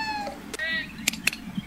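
A cat gives a few short, close meows, mixed with people talking and some sharp clicks.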